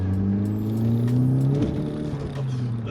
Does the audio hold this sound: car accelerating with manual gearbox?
yes